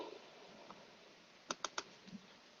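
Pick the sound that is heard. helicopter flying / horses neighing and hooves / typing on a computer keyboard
typing on a computer keyboard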